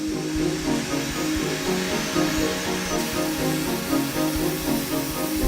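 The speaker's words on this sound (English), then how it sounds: "The drill bit follows a pre-programmed route, shaping the car with utmost precision." Steady mechanical whirring and grinding from a 5-axis milling machine shaping a clay Range Rover Velar car model, continuous and fairly loud with a rhythmic low pulsing throughout.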